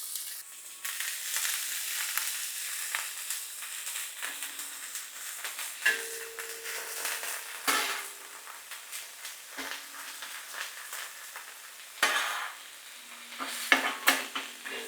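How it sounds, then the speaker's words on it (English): Jalapeños and onions sauté on a hot grill surface, a steady sizzle broken by repeated scraping and stirring strokes of a spatula, close and fairly loud, with no talking. "we're going to go ahead and saute them right on here"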